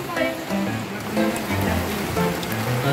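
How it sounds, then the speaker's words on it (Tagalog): Heavy rain growing stronger, pouring steadily onto surfaces with a dense hiss and patter, while people talk over it. "Lumakas yung ulan."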